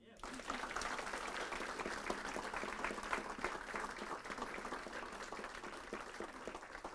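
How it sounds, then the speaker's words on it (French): A church congregation applauds after a prayer at a Sunday celebration service, sustained dense clapping from many hands at an even level throughout, somewhat distant and reverberant. "Et vous pouvez applaudir."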